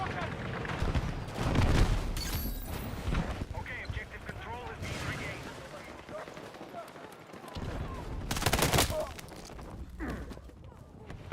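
Automated turret firing in the Battlefield 6 video game, two loud bursts of rapid shots early and late, amid busy battlefield noise with talk underneath.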